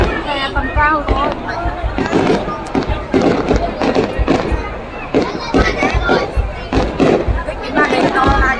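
Festival fireworks at the Đền Đô temple festival in Vietnam, a rapid string of booms and crackles bursting over a large, chattering crowd, with nearby people talking throughout.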